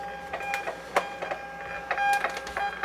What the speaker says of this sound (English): so while that's printing, we'll go through everything